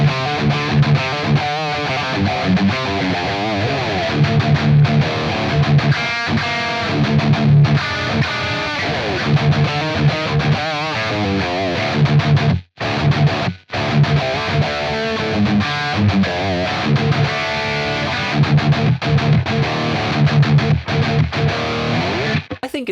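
Heavily distorted electric guitar chugs through a Blackstar St. James amp plugin on a chug preset, with dense palm-muted riffing and two brief cutouts near the middle.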